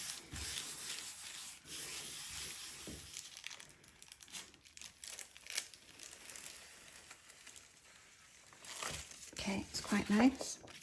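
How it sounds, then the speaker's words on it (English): Tissue paper rubbed and crinkled over a gel printing plate, soft scuffing and rustling strokes coming in uneven bursts, close and fairly quiet, with a person talking over part of it. "And go in with the tissue paper for the final tanning."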